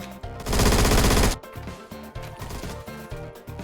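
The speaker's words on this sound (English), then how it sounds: "God, the M16A1 is just so good. It even has one of the best sounds in the game." Rapid automatic fire from an M16A1 rifle in the video game Phantom Forces, a loud dense burst lasting about a second, followed by a few quieter rhythmic thumping shots and game sounds.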